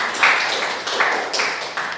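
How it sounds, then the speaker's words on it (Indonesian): Participants at a teacher-training workshop in Kuningan clap together, a brief steady wash of applause with a few slightly louder swells over two seconds. "Tepuk tangan buat kita semuanya."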